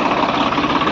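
Farmtrac 60 tractor pulling a 6-foot rotavator, its engine laboring under heavy load with a dense, rough, throbbing rumble and knocking vibration, loud and close for a brief moment.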